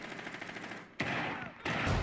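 Bursts of rapid automatic gunfire in the video game Rainbow Six Siege, one rattling volley that cuts off abruptly and then a second loud burst starting close by, sharp and dense.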